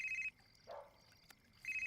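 A telephone rings faintly indoors, one short ring burst, a pause with a soft brief rustle, then the ringing starts again.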